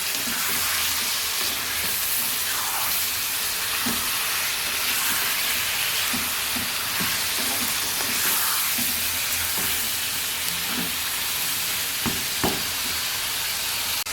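Chicken pieces for gongura chicken sizzle and fry steadily in a pan, a continuous close hiss with occasional soft stirring clicks and pops throughout, no talking.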